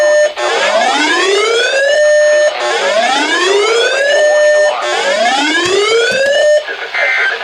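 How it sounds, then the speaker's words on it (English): National Weather Service weather radio warning alarm test tone: loud, repeated rising sweeps with a steady harmonic tone between them, cycling about every two and a half seconds, close and alone with no talk. "This is the test of the National Weather Service weather radio warning alarm"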